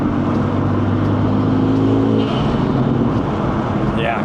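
Honda Civic Type R fitted with an AWE intake, its engine running loud and close with a steady droning tone that holds, then shifts to rougher, broadband intake roar partway through.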